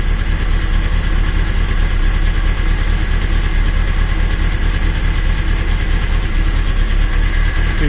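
Honda CBF/CBR/Hornet 600cc/900cc motorcycle engine idling after nearly flooding with the choke left open, running off a flat battery during cooling system bleeding; a loud, close, steady idle with an even pulsing rhythm.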